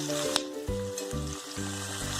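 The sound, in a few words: onion frying in hot oil on high flame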